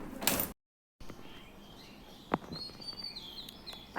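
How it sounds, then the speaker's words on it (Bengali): Birds chirp outdoors on a misty morning: a few short, thin calls scattered over a low background hiss, with a sharp nearby chirp partway through and a brief silent gap near the start. "পাখির কিচিরমিচিরও শোনা যাচ্ছে।"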